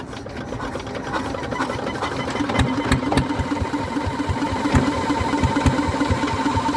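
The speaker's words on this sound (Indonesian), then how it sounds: "Mesin kompresor akan dinyalakan." Air compressor engine on a green mussel fishing boat at Muara Kamal, running at a rapid, steady mechanical chatter with sharp knocking ticks, settling into a loud, close idle.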